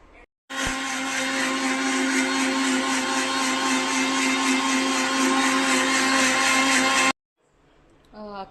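A kitchen mixer grinder runs steadily for about six and a half seconds, grinding a masala of garlic, ginger, mint and green chillies, a loud whirring drone that cuts off abruptly, followed by a short voice.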